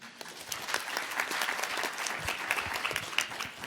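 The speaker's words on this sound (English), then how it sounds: "So I just want to start off by giving yourselves a round of applause for being here." Audience applause fills a conference spotlight session at an education technology event, a dense, steady patter of many hands clapping at moderate distance with no talk over it.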